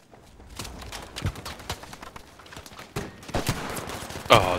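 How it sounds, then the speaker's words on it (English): Rapid bursts of Sten submachine gun fire in Battlefield 2042, sharp repeated shots close by mixed with other distant gunfire and battle noise, no talk. "Fucking Sten gun."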